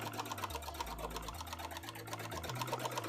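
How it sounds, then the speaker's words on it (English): Sewing machine stitching fabric around matchsticks for a cosplay piece, a steady rapid mechanical chatter running continuously and close up, with the motor's hum shifting pitch as the speed changes. "I'm being quite careful not to sew the matches because it definitely kind of wants to"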